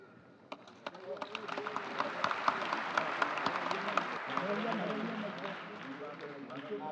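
Congregation at an annual Akurinu prayer service breaking into applause, scattered claps building into steady rapid clapping from many hands, fairly distant and moderately loud.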